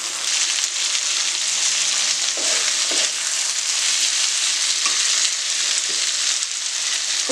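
Bamboo shoots and beans fry steadily in a pan for aloo tama, a dense continuous sizzle with a few soft stirring knocks, close and alone with no voices.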